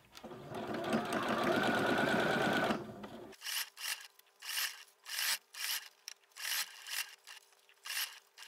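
A sewing machine stitches piping cord onto a rectangular cushion cover, first in one sustained run, then in a series of short rhythmic bursts separated by pauses, close and clear with no talking.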